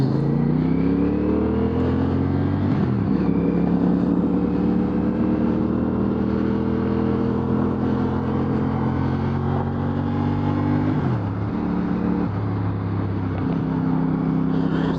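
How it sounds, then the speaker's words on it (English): A 2025 CFMoto CLC 450 motorcycle engine drones steadily while riding, its pitch rising through gears and dropping sharply at shifts around the eleventh second, loud and continuous with wind noise. "This engine makes a great noise, man. I like the way this 450 sounds."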